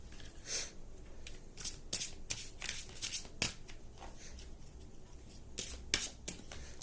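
Deck of True Lover oracle cards being shuffled by hand, close and fairly quiet, with repeated riffling and snapping bursts in an irregular rhythm and no talking.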